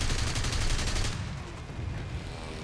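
Bf109G-2 fighter guns firing in War Thunder, a dense, rapid burst of automatic gunfire for about a second, giving way to steady engine and wind roar.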